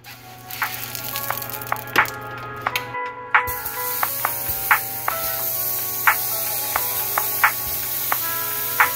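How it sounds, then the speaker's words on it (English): A steady sizzle of frying in a pan, with a short hiss of coconut oil nonstick cooking spray partway through and scattered small pops and crackles. "I have some coconut oil nonstick spray that I'm going to put in this pan."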